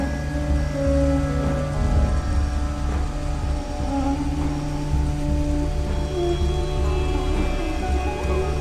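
Steady rain hisses in the frozen Northrend glacier setting of the WarCraft 3 video game, with low rumbling undertones of a storm sustained throughout at an even, moderately loud level and no voices.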